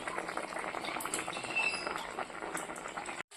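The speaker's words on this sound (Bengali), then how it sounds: "এবার আমি নিরামিষ তরকারিটা বসিয়ে দিয়েছি যে টক বগিয়ে ফুটছে নিরামিষ তরকারিটা" Vegetable curry simmering in a pot, a steady soft bubbling and gentle crackle with faint clinks, continuous and close, with no voices.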